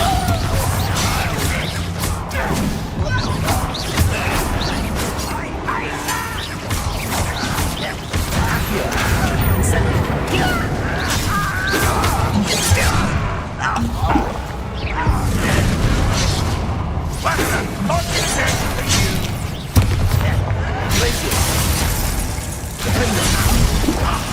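Bombarda spell explosions in the wizarding action game Hogwarts Legacy, heard as repeated loud booms and shattering crashes over busy combat noise for the full length, with no voices.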